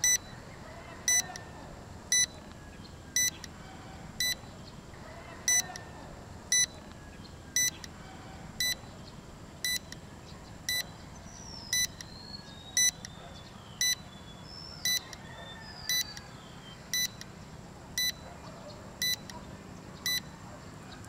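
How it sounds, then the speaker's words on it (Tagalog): A budget M108 Plus drone's handheld controller beeps while the drone returns home, short regular chirps about once a second repeating over faint wind and background hiss. "nagbi-beep-beep yung controller para malaman natin na nagre-return to home yung drone"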